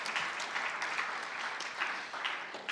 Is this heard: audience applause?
yes